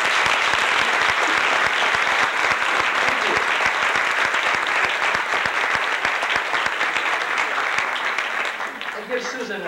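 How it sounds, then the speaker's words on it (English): A full audience claps loudly at a magic show, dense continuous applause that holds steady for several seconds before thinning out near the end, with a voice faintly audible underneath. "Give her a big round of applause."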